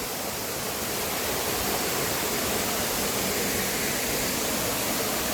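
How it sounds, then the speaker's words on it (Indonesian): Waterfall on a hiking trail up Mount Sago, a steady, loud broadband roar of falling water that holds constant throughout, close by and with no voices over it. "kita telah sampai di air terjun"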